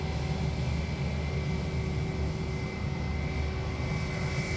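A Jetstar airliner at Sydney Airport gives off a steady, broad engine roar with a faint tonal whine, constant and fairly loud throughout with no voices.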